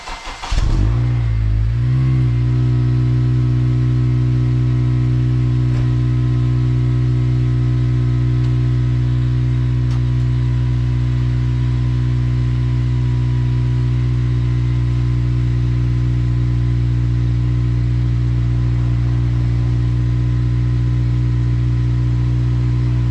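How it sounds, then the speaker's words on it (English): An 8th-generation Honda Civic Si fires up from cold with a brief crank and catch, then settles into a steady, loud idle with a deep, even exhaust drone that holds unchanged for over twenty seconds. "Let's do a quick little cold start just for shits and gigs to hear the"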